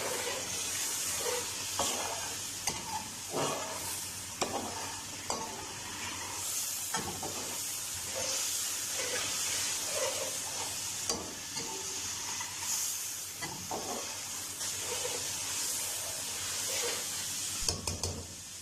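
Masala gravy for Kashmiri chicken curry, with dried fenugreek leaves added, sizzles and hisses in a pan while a spoon stirs and scrapes at intervals, close and steady throughout.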